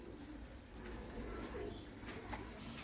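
A high flyer cross pigeon coos softly and close by in a short, faint burst over quiet background noise.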